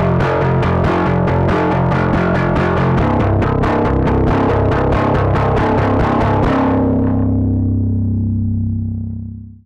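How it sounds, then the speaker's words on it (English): A distorted, down-tuned bass guitar chugs through rapid, evenly picked percussive notes, then one low note rings out and slowly fades. "The loose strings, a good down-picking technique and a low action provide the extra bite and percussive sound"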